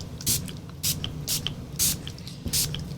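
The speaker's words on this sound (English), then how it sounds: "to fix the chalk, I'm going to use the SpectraFix Pastel Fixative. And I'm going to spray over it." SpectraFix non-aerosol pastel fixative sprayed over chalk on a card in short hissing pumps, about five evenly spaced bursts, close and clear over a low background hum.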